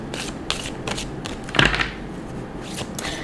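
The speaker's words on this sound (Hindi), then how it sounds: "एक लास्ट शफल करेंगे।" Playing cards are shuffled close by in a quiet room, a series of crisp riffling bursts with one louder flurry in the middle.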